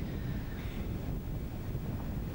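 Wind blows steadily across an open golf course during a professional tour event, a constant low rumble and buffeting against the microphone with no gaps, and nobody speaks.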